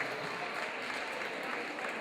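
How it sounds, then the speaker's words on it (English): Steady audience applause fills an evening show celebrating a lineup of performers, a dense continuous wash of clapping heard up close with no voices over it. "how about a nice round of applause for all the fantastic acts you guys have seen here tonight?"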